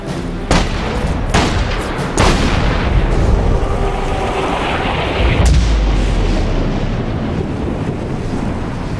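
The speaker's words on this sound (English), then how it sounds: "Wanker's shooting at me!" Gunfire in a cutscene from The Saboteur, set in 2009-era action: several loud, sharp shots cracking out over a constant windy roar, with a heavy thud later on.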